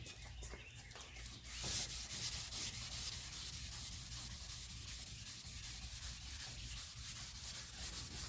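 A 1969 Dodge Dart's car body is sanded by hand with steady rhythmic rubbing strokes. The sound is close and continuous, with a louder burst near the start and no talk.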